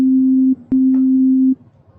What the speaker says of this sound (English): So a simple sine wave sounds like this.